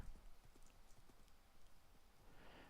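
Horse hooves galloping in the video game Minecraft, a fast, faint run of clip-clop hoofbeats under a noisy background.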